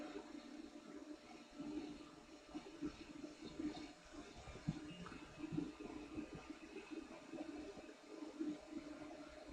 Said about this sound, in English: You're hearing the printer. Because the steppers and fans are pretty noisy.